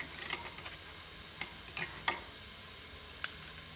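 Minced garlic fries quietly in a pan, a soft hiss broken by a few sharp clicks of a utensil against the pan, close and with no one talking.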